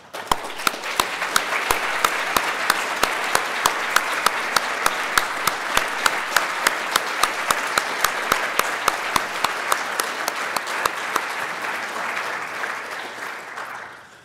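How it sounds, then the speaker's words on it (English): Sustained audience applause at an astronomy conference plenary session, a dense steady wash of clapping with a few sharp louder claps standing out, continuing evenly for about thirteen seconds before tapering off at the end. "maybe we could have a round of applause"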